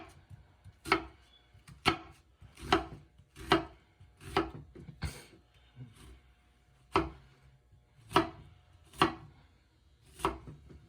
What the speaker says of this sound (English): Anybody knows a way to cut onions without crying?